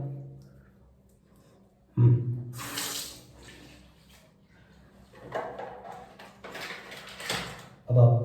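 Tap water runs into a sink while rinsing lather after a safety-razor shave, a steady splashing stream that swells and fades in bursts beneath someone talking.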